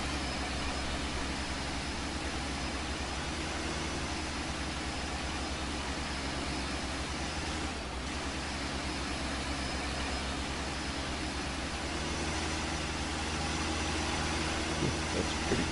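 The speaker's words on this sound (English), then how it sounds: "That's pretty taxing on this little tractor, but she'll get her done." A small tractor engine runs steadily under heavy load, a continuous dense rumble with broadband mechanical noise that holds constant throughout, fairly loud and close with no speech.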